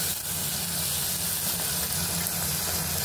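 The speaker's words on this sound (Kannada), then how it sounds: "ಚೆನ್ನಾಗಿ ಫ್ರೈ ಮಾಡ್ಕೊತಾ ಇದ್ದಾರೆ ಮಾಮ" Thick-cut snake gourd pieces fry in oil in a pan, giving a loud, continuous, dense sizzling hiss that holds steady throughout, with no talking.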